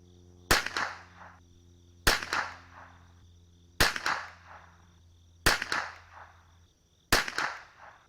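Five crisp .22LR rifle shots of CCI Blazer 38gr ammunition, fired at 50 yards through a chronograph, ring out evenly spaced about every second and a half, each with a short decaying echo over a faint steady electrical hum.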